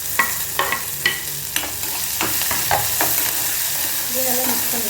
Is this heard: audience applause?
no